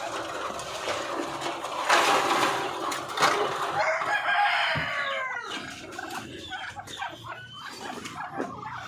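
Backyard farm chickens cluck steadily and a rooster crows, with overlapping calls close by that continue throughout without any talking.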